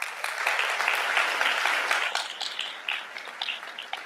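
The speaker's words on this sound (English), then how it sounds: "That definitely deserves applause given our circumstances the past couple of years." Applause at a school board meeting in St. Lucie for the School Nurse of the Year, a moderate wash of clapping from a room of people that continues steadily and gradually loosens over several seconds.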